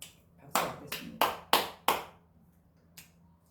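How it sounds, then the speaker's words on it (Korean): A handful of sharp, separate hand claps come in a quick uneven run of five, then one more after a pause. The sound is close and sparse rather than a full crowd. "박수 받겠습니다."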